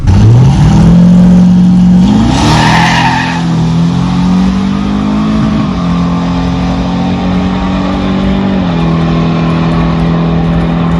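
A nitrous-equipped pickup truck on a drag strip pass, loud and close, its engine roaring through rising gear changes after a brief tire squeal as the wheels spin and then grip.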